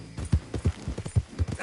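Horse hooves beat in a quick, regular galloping rhythm in Red Dead Redemption 2, close and punchy, about seven strong thuds over less than two seconds.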